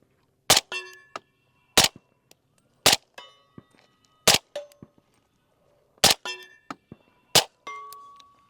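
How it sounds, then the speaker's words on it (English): Six sharp rifle shots from a Q Honey Badger, evenly spaced about a second apart, each followed by a ringing metallic clang as the round strikes a steel target, loud and close with quiet between shots. "I'm gonna just shoot a couple rounds at the cardboard and then a couple at the steel."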